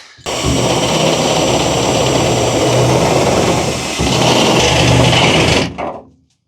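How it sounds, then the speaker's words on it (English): A loud, steady high-pitched drill whine from a step drill bit widening holes runs continuously for several seconds, nearby, then winds down and stops. "We'll change out the drill bit for a step drill now, just to widen them holes."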